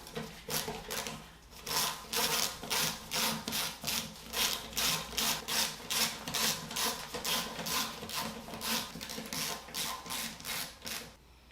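Rhythmic rasping strokes repeat steadily, close and moderately loud, as a brake rotor is worked off a mountain bike wheel.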